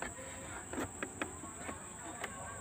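Stingless trigona bees (kelulut) buzz faintly around their nest, with a soft continuous drone broken by a few brief closer passes.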